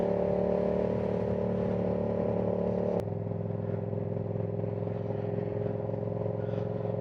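A Yamaha R7 motorcycle with a loud aftermarket exhaust hums at a steady engine drone while riding, the tone dropping abruptly midway as the throttle eases, with wind rush underneath.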